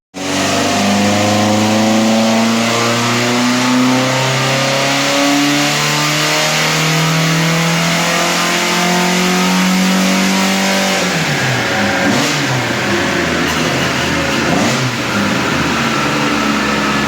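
An AC Cobra's Ford 2.0 Pinto engine revs hard on a dyno, climbing steadily in pitch, loud and close, then drops back and sputters with crackling as the throttle eases.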